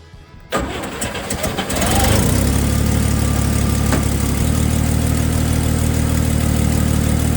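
A 1958 Chevy Apache truck engine cranks briefly and catches, then settles into a loud, steady, rumbling idle close by.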